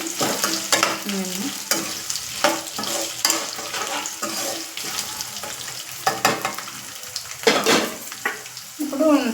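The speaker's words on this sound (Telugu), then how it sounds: "ఇంకండి ఎల్లుల్లిపాయలు ఇంకా ఒకటి వేసుకుని అండి ఇవి వేయిపోవాలి బాగా కొంచెం బాగా వేగాలి" Garlic frying in a pan with curry leaves and sesame for a cucumber chutney, a busy sizzle with frequent stirring scrapes and utensil knocks, fairly loud and continuous.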